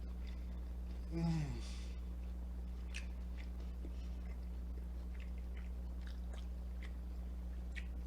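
Crispy Asian fried chicken wings being bitten and chewed up close, a crunchy burst near the start with a breathy vocal sound, followed by scattered softer chewing clicks over a steady low hum.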